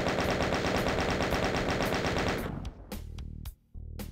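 Chaingun firing in the video game Voxel Doom 2, a rapid rattling burst of shots that stops after a couple of seconds, followed by a few separate loud single bangs.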